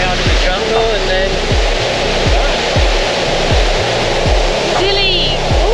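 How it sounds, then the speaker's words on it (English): A big jungle waterfall in the Atherton Tablelands roars as a loud, steady wash of falling water. Faint rhythmic low thumps and tonal sounds run beneath it. "That big waterfall."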